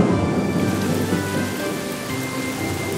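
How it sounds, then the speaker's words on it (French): Steady rain pours down in a cartoon, a dense continuous hiss with a low rumble underneath, close and fairly loud. "Il commence à pleuvoir"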